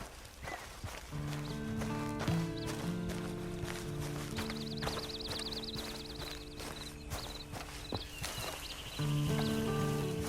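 Steady clip-clop of horse hooves walking at an even pace in Red Dead Redemption 2, with a sustained musical score playing over the top throughout.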